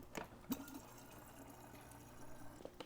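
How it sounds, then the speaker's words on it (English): A water bottle is refilled, a soft trickle and gurgle of water running in close by, with faint clicks and knocks at the start and near the end. "got to get my water refilled"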